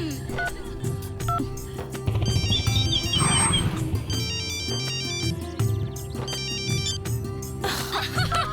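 A mobile phone ringtone plays a repeating electronic melody in bursts, loud and close, with faint background sounds from an indoor film scene.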